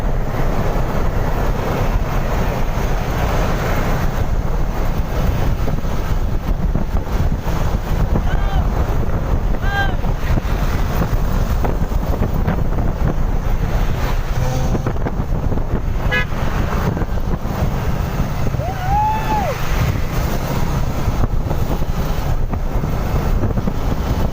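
Heavy wind buffeting a microphone on a motorcycle cruising at about 50 to 60 km/h on a road trip, a constant loud roar with engine drone beneath and faint voices now and then.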